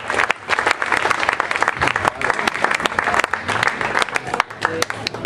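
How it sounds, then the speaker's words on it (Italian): A crowd applauds festival president Franco Lo Monaco at an Italian Blues River Festival presentation in Brivio. Crisp, close claps in an uneven rhythm carry throughout, with brief chatter mixed in. "ancora un applauso al presidente Franco Lo Monaco."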